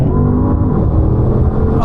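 A BMW M3 Touring and an Audi RS6 launch side by side in a drag race, their engines a loud, close, low droning roar held through the short stretch with a faint rising whine, under a brief voice.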